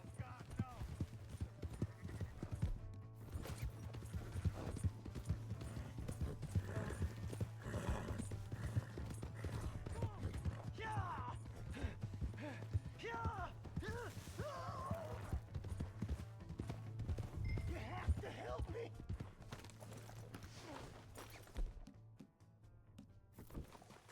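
Horse in Red Dead Redemption 2, steady clip-clop of hooves going on throughout with occasional whinnies, under frequent talk from a player and game characters.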